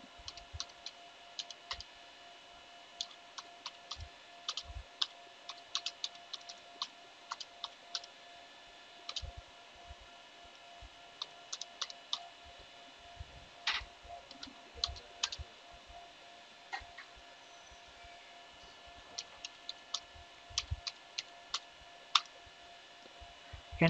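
A MySQL dump command and a password are typed on a computer keyboard on a Debian system. Soft, quick key clicks come in irregular bursts with brief pauses, faint and close.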